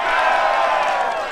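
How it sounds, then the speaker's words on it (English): A crowd at a disc golf championship cheers and whoops in one sustained roar, loud and steady from start to finish. "Listen to that crowd cheering on Greg Barsby"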